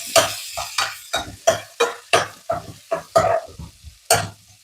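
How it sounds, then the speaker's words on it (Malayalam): Onions sautéing over a lowered flame, a series of about a dozen rhythmic spatula strokes, each a short loud scrape with a burst of sizzle, close and clear with no talk. "ഉള്ളി വഴണ്ടുകൊണ്ടിരിക്കുന്നുണ്ട് കേട്ടോ"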